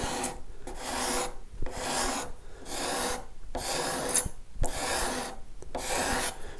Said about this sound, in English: I'm again just going to use my card scraper